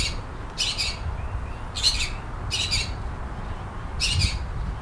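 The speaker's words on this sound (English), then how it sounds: "Go that way, little blackbird, go that way." Blackbird squawking in a yard, four harsh, broad calls spaced irregularly over steady low background rumble, moderately close and clear.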